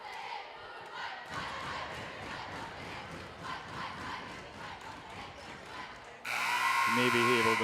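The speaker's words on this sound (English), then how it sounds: "You may be able to hear the JV and freshman teams cheering on their varsity counterparts" Crowd of high school JV and freshman volleyball players cheering loudly from the stands at a varsity volleyball match in a gym, sustained rowdy shouting with bursts, then a louder noise takes over near the end.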